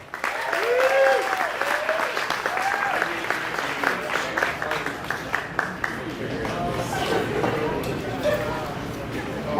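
A comedy-club audience applauds loudly and steadily as comedian Tim Ahrens is brought on, with cheers and whoops rising over the dense clapping throughout.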